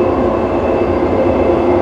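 A Dubai Metro train running fast along its tracks, heard from on board as a loud, steady rumble with a rhythmic low throb from the wheels and a faint high whine, with no voices.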